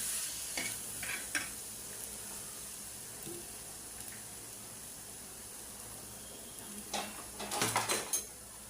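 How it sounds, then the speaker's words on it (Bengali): Fried rice with egg, green chilli, coriander leaves and soy sauce sizzling faintly in a pan, with sporadic stirring scrapes and a louder cluster of stirring and clatter near the end. "ভাত ভাজি করে দিলাম, হালকা ডিম, কাঁচামরিচ, ধনিয়া পাতা দিয়ে। এখন একটু পরিমাণ সয়া সস দিয়ে দিলাম।"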